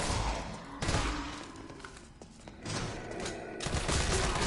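Bursts of rapid gunfire from the video game Resident Evil 3, loud and dense, with a few heavy thumps in between.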